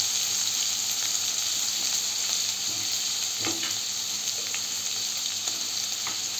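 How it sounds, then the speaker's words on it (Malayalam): Chopped onion dropped into hot oil after mustard and fenugreek seeds, frying in a steady close sizzle with a few stirring clatters from the pan, no voices. "ഇനി ഉള്ളി അതിലോട്ടിടാം"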